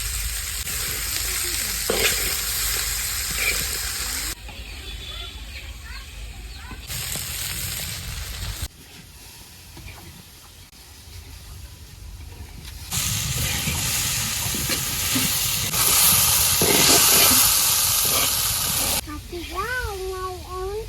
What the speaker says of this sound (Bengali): আমি ঢেঁড়স ভাজা দিয়ে দিই, লবণ দিয়ে দিলাম